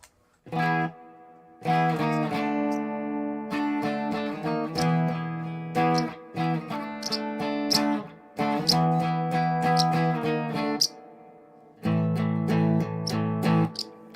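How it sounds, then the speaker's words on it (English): An instrument plays through a guitar amp's spring reverb, sustained distorted chords ringing out in several bursts separated by brief silences, each with a lingering wash of reverb. "Now here's with the reverb of the amp."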